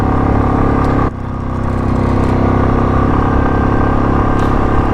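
A motorcycle runs at full throttle on a high mountain road, a loud, constant roar of engine and wind heard from the rider's position, with a brief dip before it settles back to full drone.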